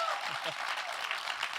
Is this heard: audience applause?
yes